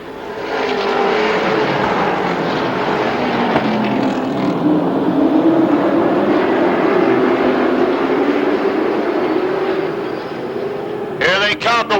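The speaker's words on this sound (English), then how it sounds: "Here comes a field green flag, and we're racing." Race cars at Rockford Speedway in 1991 roar around the track in a continuous loud, droning engine wail that rises and falls as the field passes, then cuts off abruptly near the end.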